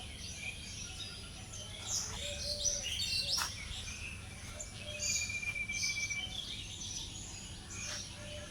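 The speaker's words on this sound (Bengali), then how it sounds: "অনেক রকম পাখি ডাকছে।" Assorted birds chirp and call among trees in a rural green area, scattered high tweets over a faint insect hum, moderately distant.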